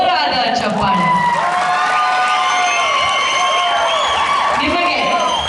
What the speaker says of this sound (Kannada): ಬರಲಿ ಇವರಿಬ್ಬರಿಗೂ ಜೋರಾದ ಚಪ್ಪಾಳೆ.